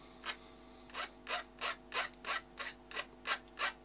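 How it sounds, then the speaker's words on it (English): A metal file rasps across a cut metal edge to take the sharpness off, about ten short even strokes in a steady rhythm, close and clear with no talking. "just use a metal file and get some of the sharp edge off a little bit"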